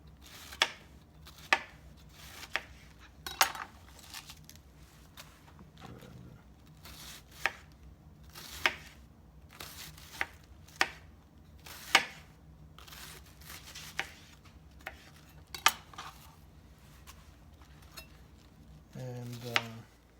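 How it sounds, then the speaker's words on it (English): A knife slices cabbage thinly on a board for sauerkraut, making regularly spaced crisp cuts about one per second over a soft background, with a short rustle at the end. "I'm going to slice it, again, as thinly as I can."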